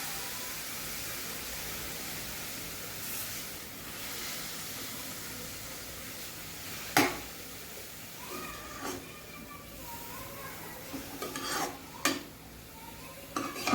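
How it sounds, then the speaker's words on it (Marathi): Grated bottle gourd is stirred in ghee in a pan for halwa, making a soft, steady sizzle with occasional sharp clinks and scrapes of the spoon against the pan. "दोन मिनिट आपल्याला असंच हलवून घ्यायचा"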